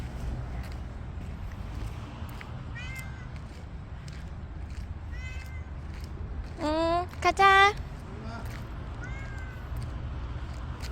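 A cat meows repeatedly while walking outdoors off leash, several short calls with a louder, longer burst of meowing near the middle, over steady outdoor background noise as someone talks and laughs.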